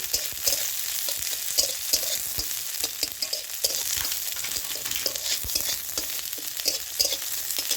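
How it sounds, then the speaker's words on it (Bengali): Onion frying in hot oil with black cumin, stirred steadily in the pan: a continuous close crackling sizzle broken by repeated scraping strokes of the spoon, with no voices. "একটু কালো জিরে দিলাম, পেঁয়াজ দিলাম। পেঁয়াজটা একটু নাড়াচাড়া করে"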